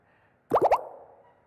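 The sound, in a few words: Xiaomi MIUI 10 water droplet notification sounds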